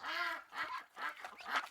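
Cartoon ducks in a Jackbox party video game quack in a quick series of four nasal honking calls, fairly faint and isolated, with no speech.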